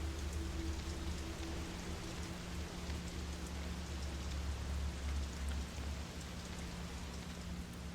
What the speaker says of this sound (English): rain is pounding on the thin glass of the window